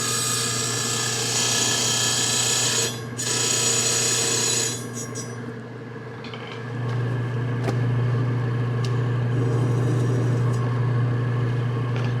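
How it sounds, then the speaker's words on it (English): Tungsten tuning steel rods scraping along a dull blade in a fur tannery, a steady grinding, ratcheting rasp running continuously over a constant low machine hum. "So we'll sharpen it with our tuning steels, which are tungsten rods."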